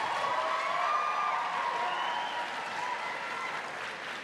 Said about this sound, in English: let's try to keep the applause minimum so we can get as much in